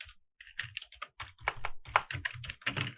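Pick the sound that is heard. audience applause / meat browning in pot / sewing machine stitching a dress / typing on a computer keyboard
typing on a computer keyboard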